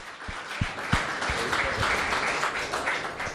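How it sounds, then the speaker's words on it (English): Applause at a hackathon event as a team is recognised: a room full of people clapping steadily for several seconds, with a few sharp individual claps standing out near the start. "give a good big applause for them"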